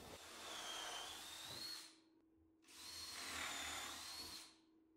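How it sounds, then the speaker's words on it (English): A power drill bores countersunk pilot holes in wood, whirring in two sustained bursts of about two seconds each, spinning up and winding down, with a short quiet gap between them. "I'm going to drill some pilot holes that are countersunk"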